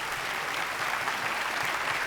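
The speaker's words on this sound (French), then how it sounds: "Merci pour vos applaudissements" Dense, continuous audience applause fills the room at an even level, many hands clapping together with no pauses or voices on top.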